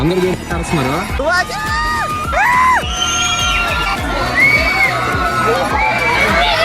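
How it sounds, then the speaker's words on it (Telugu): A crowd of visitors at Guna Cave in Kodaikanal shouts a single name over and over. Loud, overlapping voices ring and echo continuously, with whoops and cheers mixed in. "అందరూ అయితే అరుస్తున్నారు సుభాష్ అని"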